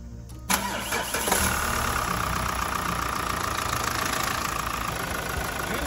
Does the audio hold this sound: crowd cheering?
no